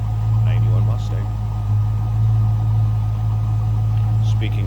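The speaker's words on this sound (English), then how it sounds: "No crazy exhaust, no cammed engine. It's a good sounding 91 Mustang." A 1991 Ford Mustang LX convertible with stock exhaust and an uncammed engine idles steadily and loudly from behind the car, a smooth low rumble that continues while someone speaks over it.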